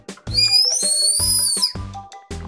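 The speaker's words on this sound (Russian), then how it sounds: "Али, ты слышала, как Алина свистит?" High, airy whistling through a Japanese whistle-shaped candy, a long sustained tone with a slight wobble, followed by short breathy puffs and faint background sounds.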